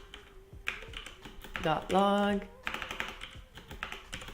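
Someone types on a computer keyboard while coding in C#, producing rapid, uneven clicks and clacks close to the mic. A person talks over part of the typing.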